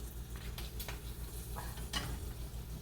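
Poha papad frying in hot oil, a soft steady sizzle heard close but faint, with a few light scrapes and clinks of a spoon stirring in the pan.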